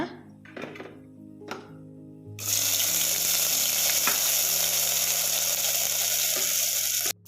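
Onion dropped into hot oil, quiet clinks first, then a sudden loud hiss of frying that holds steady and close for several seconds.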